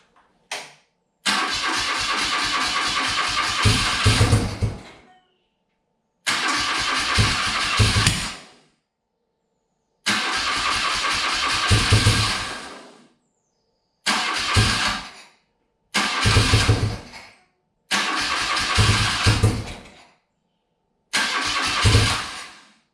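A classic BMW car engine cranking on full choke, heard in seven separate bursts of starter whirring, each a few seconds long with brief catches of firing and short silences between, close and loud.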